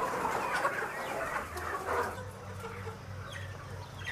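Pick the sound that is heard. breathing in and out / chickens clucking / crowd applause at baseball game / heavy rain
chickens clucking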